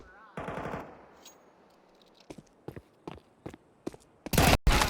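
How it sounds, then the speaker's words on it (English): Video game esports match with an artillery barrage: bursts of rapid gunfire and sharp shots in quick succession, loud and close, building to dense blasts at the end. "Artillery barrage."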